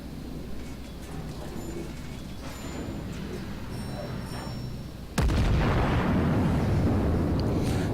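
The battleship Konig Albert fires its main guns at long range in World of Warships: after a quiet stretch of low ambient hum, a sudden loud, deep boom erupts and rolls on as a sustained roar.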